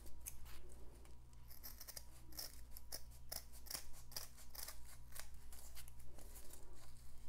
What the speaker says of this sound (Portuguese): Então eu vou agora recortar a nossa juta, tirar a juta daqui e